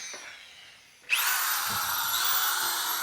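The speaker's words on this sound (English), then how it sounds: "So this drill is only single speed, so sometimes it catches." A single-speed power drill spins up suddenly and drills a hole with a steady, high-pitched whine, loud and close, continuing evenly after a quiet start.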